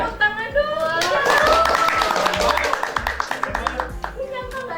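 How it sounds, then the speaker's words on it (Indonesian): A small studio audience at an Indonesian talk show claps for a few seconds, tapering off into scattered, separate claps, while voices of people laughing and talking overlap it. "Tepuk tangan dong."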